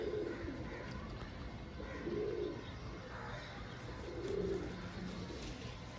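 Pigeons coo in low, burbling phrases every couple of seconds, close by, over a steady hum of background noise.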